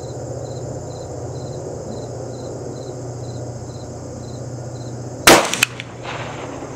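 A single sharp rifle shot from a Dakota Classic Predator in 20 VarTarg at an outdoor range cracks loud and close with a short echo, over steady insect chirping and low hum.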